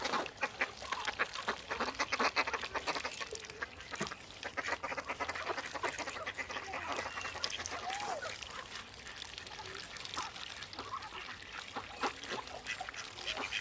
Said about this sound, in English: there's more ducks than finds today.